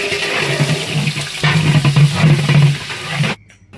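A large batch of onions goes into hot oil for a 20 kg village-style mutton curry, giving a loud, dense sizzling hiss that holds for about three seconds and then cuts off abruptly.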